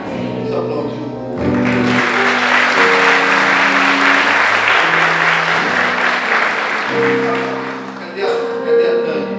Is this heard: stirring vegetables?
no